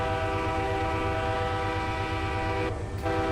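A train in a train simulator game rumbles along with a loud sustained multi-tone horn sounding steadily over the rolling engine drone, briefly dipping near the end, with no voices.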